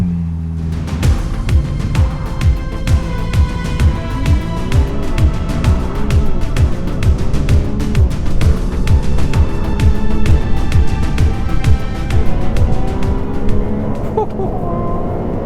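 Ferrari 296 GTB hybrid twin-turbo V6 on a drive, engine note rising and falling through repeated throttle pulses and gear changes, loud and steady inside the cabin with rumbling road noise throughout.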